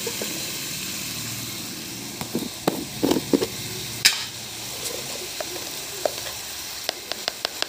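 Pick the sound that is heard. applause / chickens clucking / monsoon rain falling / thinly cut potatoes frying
thinly cut potatoes frying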